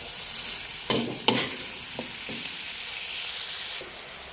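Cauliflower is stir-fried in a hot pan under a constant loud sizzle, with a few sharp scrapes and clanks of a spatula against the pan.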